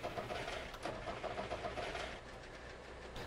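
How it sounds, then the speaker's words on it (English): A car engine in the video game The Long Drive runs with a low, steady hum and a faint rhythmic rattle. It is quiet and unbroken, with no talking. "you should be able to hear the engine going"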